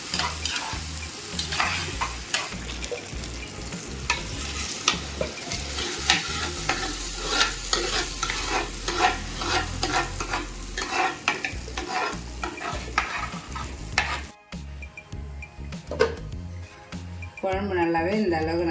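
Onions and tomatoes sizzle and fry in a pan while a spoon stirs and scrapes steadily, with occasional clinks against the metal; the cooking sounds close and continuous.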